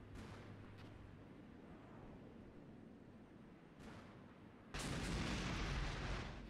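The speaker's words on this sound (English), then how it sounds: "The Hueys are definitely firing at something." Huey helicopters fire their weapons in Armored Brigade, a distant rumble of gunfire that swells into a loud sustained burst near the end.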